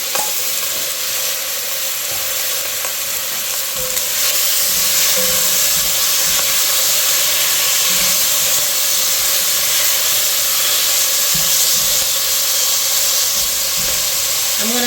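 Salted meat sizzles and hisses steadily in a hot pot of seasoning for a Caribbean soup, a loud, continuous frying crackle close up with occasional stirring scrapes and no talk.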